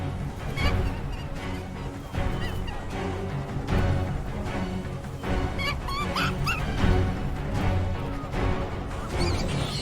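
Great black-backed gulls call on a cliff-top seabird breeding ground, loud harsh repeated cries and gobbling squawks layered over a dense, busy colony din.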